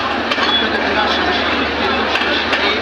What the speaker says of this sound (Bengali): এখনও ট্রেনের লাস্ট বগি বেরি হয়নি